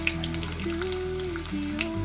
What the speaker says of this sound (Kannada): ಹಾಗೇನೆ ಅದನ್ನು ಚೆನ್ನಾಗಿ ಫ್ರೈ ಮಾಡ್ಕೊಳ್ಳಿ